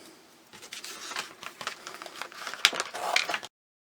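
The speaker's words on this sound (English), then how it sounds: "Next we cut it out with scissors." Crisp snipping and paper rustling at close range as scissors cut, with irregular clicks before it stops abruptly.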